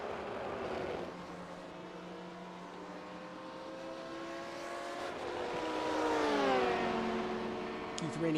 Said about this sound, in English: Keith Rainey comes by the 25 of Connor Seidel, currently running in 7th place in GTE